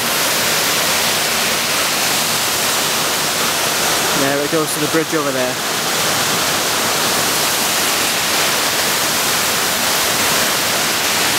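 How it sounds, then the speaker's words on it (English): A waterfall in Scotland roars as a constant broad rush, loud and close, with someone speaking briefly over it midway. "further up there's more waterfalls and it just keeps on going like this for ages"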